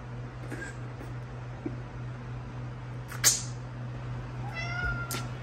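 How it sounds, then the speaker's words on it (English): A cat meows faintly near the end of a quiet indoor stretch with a steady low hum, after a brief sharp noise midway; no one speaks. "Cat, shush."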